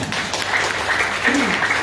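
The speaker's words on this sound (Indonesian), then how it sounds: "tepuk tangan buat Bu Haja Linda" Steady applause from a crowd fills the whole moment, with faint voices mixed underneath.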